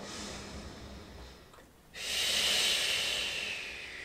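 A strong exhale during a Pilates reformer exercise: a quiet breath fades out, then a sharp, close hiss of breath starts abruptly and holds steady for about two seconds.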